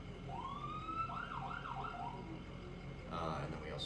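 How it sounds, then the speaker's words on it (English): An ambulance siren being tested during a vehicle check, its wailing tone sweeping up and down at moderate distance over a steady engine hum, with a brief burst of brighter noise near the end. "we also have to check the sirens"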